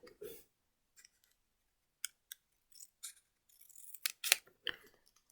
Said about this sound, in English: So we're going to do just a little cut there.